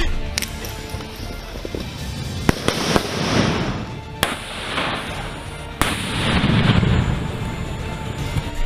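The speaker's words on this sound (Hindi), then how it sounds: "हैंड ग्रेनेड फेंक कर दुश्मन को तबाह करना" Hand grenades explode during Indian Army infantry training, with a handful of sharp, loud bangs spaced a second or two apart, each followed by a rumbling wash of noise and a brief outdoor echo.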